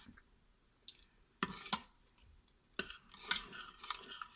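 Scraping and clinking of a spoon stirring thickening, boiling gravy in an Instant Pot, coming in a few short bursts separated by quiet pauses, close by with no talking.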